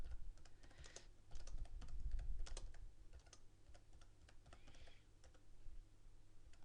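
Keys clatter in a fast, uneven stream as text is typed on a computer keyboard, close by and fairly quiet, with no talking.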